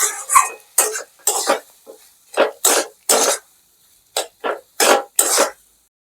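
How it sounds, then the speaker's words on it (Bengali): Boiled potato stirred and mixed in a pan for Kolkata-style egg chop, with a string of separate scraping, stirring bursts of even strength and short pauses between them, near and clear. "এইভাবে নেড়ে নেড়ে এটাকে ভালো করে মেশাতে হবে।"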